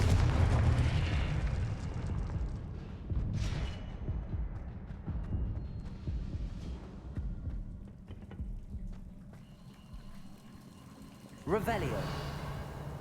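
Confringo blasting spell explosions in the game Hogwarts Legacy, a series of deep rumbling booms rolling over a low throbbing backdrop, ending with a sharp loud burst near the end.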